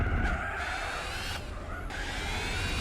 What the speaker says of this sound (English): doesn't help when I'm hearing the car squealing and struggling for grips